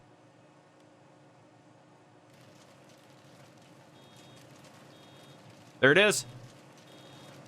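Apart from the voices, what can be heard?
wood chipper alarm beeping in Farming Simulator 19 video game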